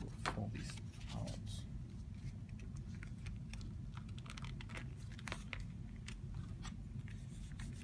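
Soft, close crinkling and rustling of paper pages being folded out for a pocket book, a steady run of small crackles and taps at low volume.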